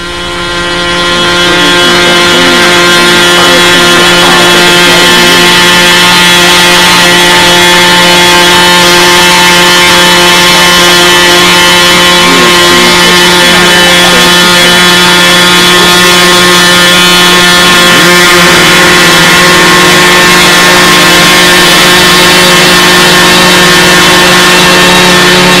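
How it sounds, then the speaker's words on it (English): A racing boat powered by Oldsmobile engines roars loud and steady at close range, one unbroken engine drone that barely changes over its whole length. "It had Oldsmobile engines in it."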